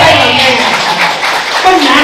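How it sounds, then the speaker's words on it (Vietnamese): A church congregation claps together during a sermon, a dense, close, continuous patter of hands with voices mixed in throughout. "Chúng ta vỗ tay mừng nghe này."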